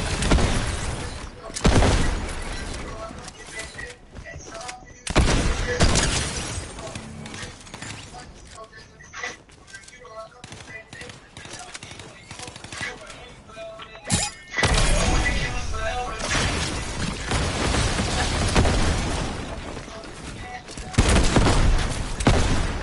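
Bursts of gunfire from a new gun crack out in several loud, sharp clusters separated by quieter stretches, with people talking in between and some rattling, clattering noise around the shots.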